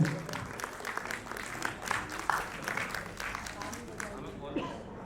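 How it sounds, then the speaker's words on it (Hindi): An audience at an Indian look-alike film awards show claps in a loose, moderate burst, the applause fairly distant and uneven, with voices mixed in through the room. "ताली बजाइए"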